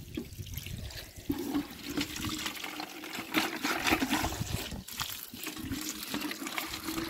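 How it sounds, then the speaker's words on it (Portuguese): Water runs steadily for chicks on a small rural farm, a continuous splashing, trickling flow that stays close and fairly loud throughout, with no voices. "É a água dos pintinhos lá."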